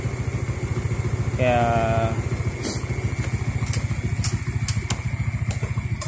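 A motorcycle engine fitted with a homemade carburetor velocity stack idles steadily with a fast, even pulse, close and loud throughout, while someone speaks briefly over it.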